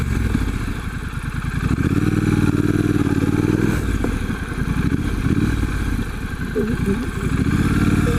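A 2017 Triumph Street Scrambler runs with a steady, moderately loud engine and exhaust note that rises and holds while riding, with some clattering, and a person talks over it.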